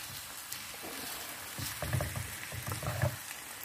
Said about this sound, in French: Et comme vous voyez, la viande commence à cuire, donc on va la retourner.